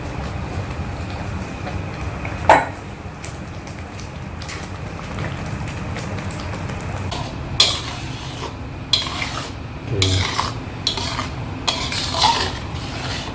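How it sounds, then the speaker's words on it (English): Ingredients frying in a pan for Indonesian botok with Spanish mackerel and noni leaves, a low sizzle under periodic scraping stirs and metal clatter of utensil on pan, growing busier toward the end. "We fry this for about 10 minutes or so before we add the next stuff."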